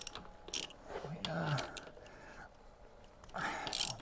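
A ratchet loosening the 14mm front brake caliper mounting bolts on a Triumph Sprint ST 955i, with short bursts of clicking and mechanical creaks, close and fairly quiet.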